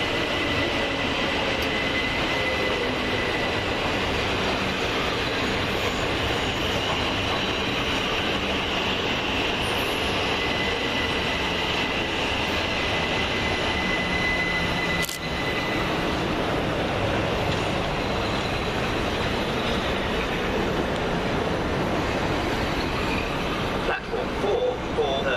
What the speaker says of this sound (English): Southern Railway service from Bognor Regis and Portsmouth Harbour to London Victoria.